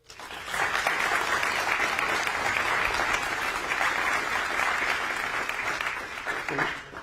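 An audience at a public meeting on the J.H. Baxter Superfund site breaks into applause, dense clapping swelling quickly and holding steady for several seconds before thinning slightly near the end.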